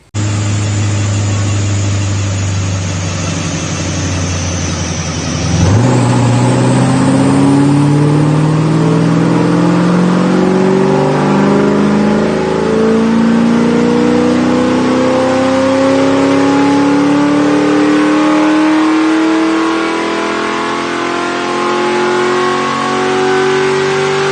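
A car on a dyno making a pull: a low idle rumble, then a sudden loud rev that climbs steadily in pitch for the rest of the pull, close and powerful.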